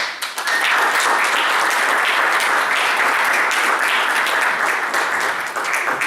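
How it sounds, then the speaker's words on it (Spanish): Sustained applause for don Eulalio from an audience at a talk on the life of Ignacio Torres Giraldo, a dense, steady roar of many hands clapping at once, loud and unbroken for several seconds with no speech over it. "Un aplauso para don Eulalio, por favor."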